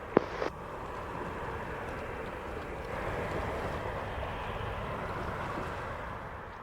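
Spirit airliner on approach to runway 07 at Montego Bay airport, Jamaica: a steady, moderately distant jet roar holds level throughout, swelling slightly midway, after a brief sharp click at the start.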